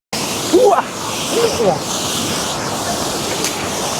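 Water flows steadily at Swallow Falls in Wales, a constant rushing wash that runs throughout, with a voice briefly heard over it near the start.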